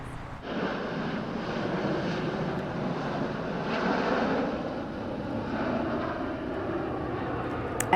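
Military jet aircraft of the US Thunderbirds demonstration team passing over a city, heard as a steady, broad roaring rumble that swells slightly midway and stays loud throughout, with no talking.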